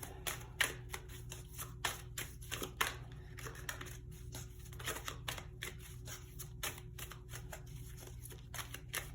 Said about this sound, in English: I'm going to pull a Wisdom of the Oracle card